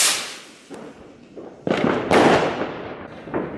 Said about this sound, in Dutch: Duitse kanonslagen